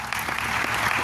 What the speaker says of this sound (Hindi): तालियां दीजिए इनके लिए जोरदार।